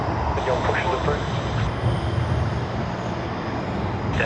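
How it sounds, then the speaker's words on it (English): An airplane takes off at Sydney Airport, a loud, steady engine roar with broad rushing noise that holds constant, heard from a distance. "we do have a takeoff out there"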